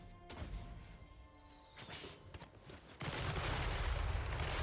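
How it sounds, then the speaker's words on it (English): Grenades thrown by infantry in the video game Total War Warhammer 3, a series of sharp blasts and crashing impacts followed by a sudden loud, sustained roar of explosions and debris from a battle. "Gentlemen, grenades."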